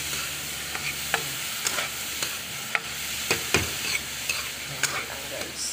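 Cauliflower rice stir-frying in a pan, a steady sizzle broken by sharp scrapes and taps of the utensil at an irregular rhythm, close and moderately loud with no talking.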